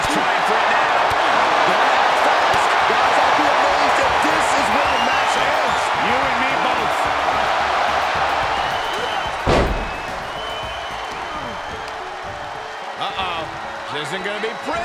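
A roaring arena crowd in the wrestling video game WWE 2K23 at a Money in the Bank event, a dense, loud, sustained cheer with scattered slams and thuds, a sharp impact near the middle, and a voice talking over it.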